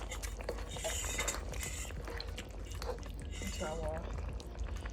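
Corn flour and cold water slurry is poured into sweet and sour sauce in a pan, giving soft liquid pouring and light utensil clinks under kitchen background noise, with some faint voice.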